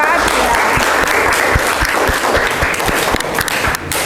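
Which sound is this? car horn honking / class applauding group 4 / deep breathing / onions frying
class applauding group 4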